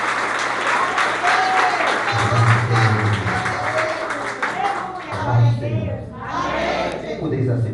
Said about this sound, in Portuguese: com as palmas bem alegres para o Senhor